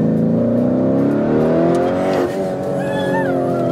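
A Lamborghini Urus engine holds a loud, steady high rev, then the pitch dips and the tone shifts as the revs fall, heard close and alone.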